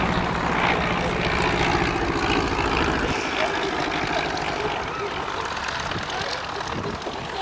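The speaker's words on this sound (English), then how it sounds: "A typical light aeroplane of the period, again side-by-side seating, unlike the Piper Cub" A Taylorcraft light aeroplane with side-by-side seating flies over at Old Warden, its propeller engine droning steadily and fairly loud throughout, with the rumble thinning slightly midway.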